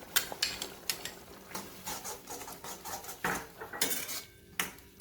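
A spoon stirring melon seed paste into paneer butter masala gravy in a metal pan, with close, irregular clinks and scrapes of utensil against pan.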